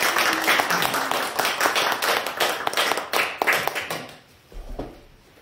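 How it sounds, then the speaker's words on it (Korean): A crowd claps to welcome a guest speaker at a Korean church gathering, a steady dense patter of many hands that thins out near the end. "큰 박수로 환영하겠습니다"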